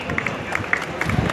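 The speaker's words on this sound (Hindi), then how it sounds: "करके उनका स्वागत करें, अभिवादन करें। आप जोरदार तालियों से" An audience at a Rath Yatra event claps to welcome guests, a short and fairly soft burst of scattered hand claps over a low crowd murmur.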